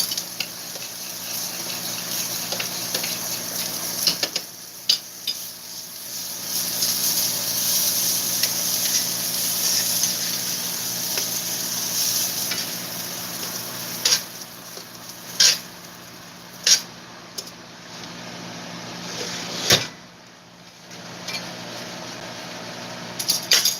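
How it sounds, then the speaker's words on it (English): Meatballs simmer slowly in a pot of sauce, giving a steady soft bubbling hiss with scattered sharp pops and clicks, heard close and alone. "We're just gonna let them simmer nice and slow"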